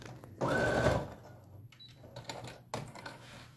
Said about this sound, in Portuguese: Eu vou passar com a linha branca